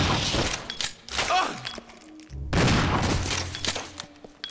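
Shotgun blasts in the survival horror game Resident Evil 0 against small spider enemies, two heavy booming shots a second or so apart, each followed by shattering debris and thuds.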